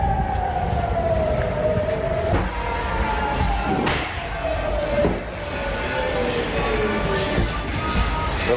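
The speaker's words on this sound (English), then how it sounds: "that's a siren alert that you can hear in this city as well" An air raid rocket alert siren wails through an Israeli city, its long rising and falling tone carrying steadily over distant crowd noise and occasional dull thumps.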